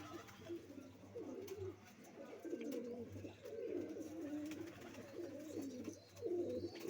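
Pigeons coo steadily in soft, rolling phrases, repeated one after another, fairly close in a quiet space.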